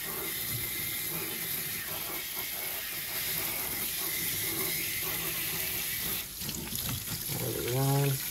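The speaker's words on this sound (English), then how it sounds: "rinse this out really good with my kitchen sink. You can take some cold water and just spray it out really good" Cold water runs steadily from a kitchen sink tap while a Mercury ProXS outboard water filter is rinsed under it, a continuous close splashing hiss with brief shifts as the stream hits the filter.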